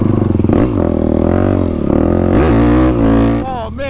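A Yamaha YFZ450R ATV engine on a first ride after dyno tuning, a loud close buzzing rev that rises and falls sharply with throttle blips, tone climbing and dropping several times.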